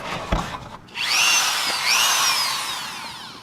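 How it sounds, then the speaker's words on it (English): A standard wire wheel spinning on a Dremel 3000 rotary tool, cleaning up bolt threads on a Ford Super Duty: a brief tap, then a loud, close, high whine that wavers in pitch as the wheel bites and slows, fading near the end. "just have the standard wire wheel on a Dremel 3000. I'm just going to try to clean up these threads a little bit"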